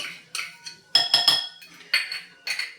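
Dhokla batter with Eno fruit salt, oil and curd being quickly whisked in a bowl, a series of close, bright clinking taps of the whisk against the bowl in uneven bursts, no voices.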